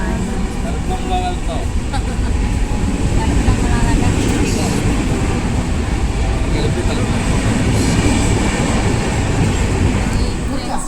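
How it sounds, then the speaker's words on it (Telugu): Steady, continuous rumble of a train rolling away, a broad low roar with rattling that stays loud and even throughout, with faint voices mixed in. "స్టేషన్ అదిగోండి మేము వచ్చిన ట్రైన్ కూడా వెళ్ళిపోతుంది."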